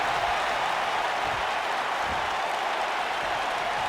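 A video game wrestling arena crowd roars and cheers in a dense, constant wash of noise that never lets up.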